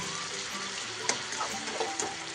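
Onion and chicken frying together in a pan for Kashmiri chicken kanti, a soft steady sizzle with a few faint stirring clicks against the metal.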